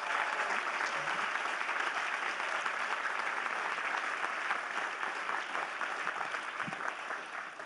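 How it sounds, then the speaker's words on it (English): Steady, sustained applause from a dinner audience at a charity event, dense clapping filling the room for several seconds and tapering slightly toward the end. "please give her a round of applause"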